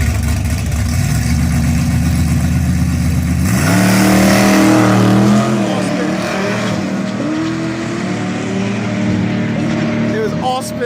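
A supercharged car at a drag race revs steadily, then surges into a loud, rising acceleration that sweeps upward and trails off, with people talking nearby throughout.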